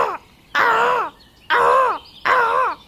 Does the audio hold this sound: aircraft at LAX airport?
no